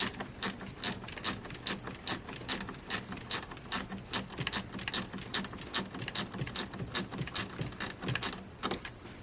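A ratchet wrench loosens bolts on the alternator of a BMW X5 35d diesel, giving a long steady run of close, sharp clicking strokes with no talk.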